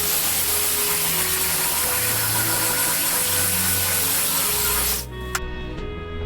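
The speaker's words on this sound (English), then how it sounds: "We're going to flip the board over and fast forward the rest of the sanding process." A power sander works a wooden board for a rustic Christmas tree base box, a loud continuous whir close by that cuts off near the end, leaving quieter hum and a small knock.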